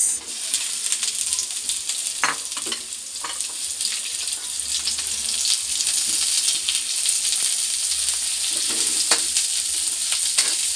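Chopped onions sizzle and fry in a pan for seafood caldereta, a steady hiss broken by scrapes and clinks as they are stirred, growing a little louder toward the end with no speech.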